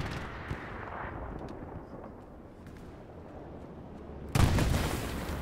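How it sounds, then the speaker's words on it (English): A tank in Hell Let Loose fires a high-explosive shell, a sudden loud blast near the end that rises out of a low, steady battlefield rumble, with no talking over it. "I think the tank just shot me in the face with an HE shell."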